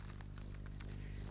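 Crickets in a garden meadow chirping in a steady pulsing trill, several quick repeated chirps, moderately close over a low background hum, with no voices.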